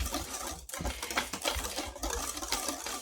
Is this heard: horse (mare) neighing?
no